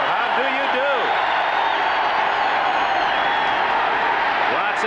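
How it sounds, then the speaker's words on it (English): A 1987 NFL stadium crowd at a Seahawks home game against the Dolphins keeps up a continuous, dense roar while an announcer talks over it. "Listen to this crowd."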